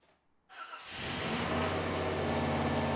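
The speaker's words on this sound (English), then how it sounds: "Got a running 4-barrel equipped 1988 Jeep Grand Wagoneer." A 1988 Jeep Grand Wagoneer with a four-barrel carburetor cranks briefly, then its engine catches and settles into a loud, steady idle close by, with no voices.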